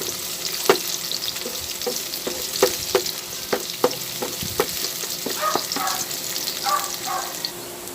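Chopped onion and garlic sizzle steadily in hot oil, with a run of sharp utensil clacks from stirring against the pan scattered throughout, close and fairly loud.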